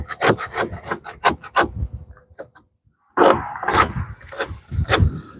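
A hand scraper rasps across wooden boat planking in a series of short, rhythmic strokes, close and fairly loud, pausing briefly before another burst of scraping.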